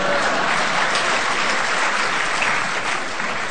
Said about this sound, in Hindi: हाँ, बीच बीच में तालियां बजाते रहे आप।